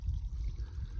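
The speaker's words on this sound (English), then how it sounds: "This is how you get water on the AT." Water trickling and pouring from a spring-fed source beside the Appalachian Trail in winter, a steady low splashing flow that is close and continuous, with no talk over it.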